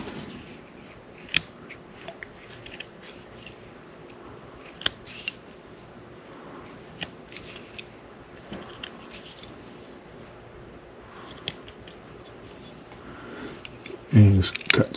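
A knife makes small cuts in wood while carving a mini snowman ornament, heard as faint scraping with sharp clicks scattered through a quiet close room, then a louder handling bump at the end.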